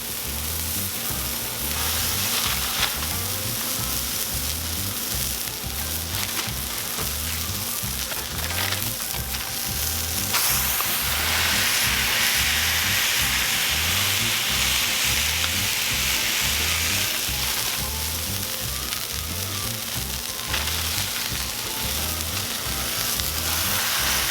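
Wagyu smash burgers sizzling on a Cuisinart 360 griddle, a constant loud frying hiss with a steady low rhythmic pulsing underneath, continuing unbroken with no talking.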